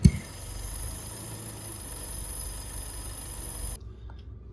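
A car engine idles steadily, with intake airflow and PCV/EGR port work around it, a low even hum that holds at a constant level for several seconds before cutting off abruptly near the end.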